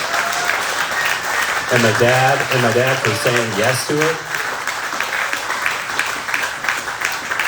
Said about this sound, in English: major round of applause